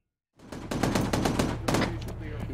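Gunfire in a military video game, a rapid burst of automatic shots starting abruptly and rattling on for about two seconds, loud and close with a faint voice underneath.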